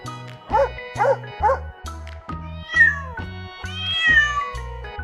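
A domestic cat meows several times in a row, clear and close, with a dog's bark or yip mixed in and a low rhythmic beat underneath.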